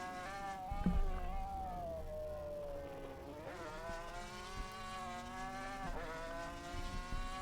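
A Honda Super GT race car engine in a racing video game around the Singapore circuit, revving steadily with rising and falling pitch sweeps as it shifts, moderately loud and alone.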